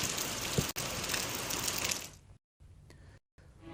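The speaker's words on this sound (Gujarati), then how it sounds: "ભારે પવન સાથેનો આ વરસાદ જોવા મળી રહ્યો છે" Heavy rain driven by strong wind in Saurashtra, Gujarat, pours as a dense, loud wash for about two seconds. It then drops away into near silence broken by brief gaps.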